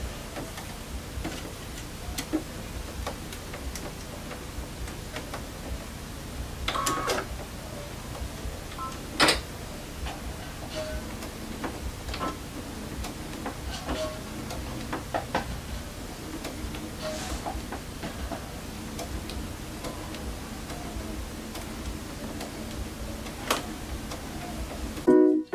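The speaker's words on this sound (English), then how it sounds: "and so I'm ready to sew" A sewing machine stitches strips of quilt fabric together with a steady, rapid mechanical ticking that runs close and even for a long stretch, broken by a few louder clicks and a sharp knock at the very end.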